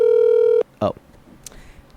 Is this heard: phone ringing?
yes